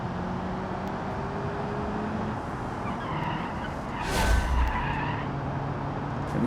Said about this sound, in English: we're just kind of slightly scrubbing these tires there as we go around